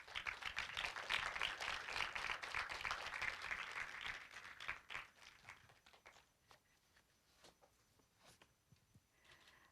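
An audience at the 8th Korea Online Journalism Awards ceremony applauds. Dense clapping fills the hall for about five seconds, then thins to scattered claps and faint footsteps.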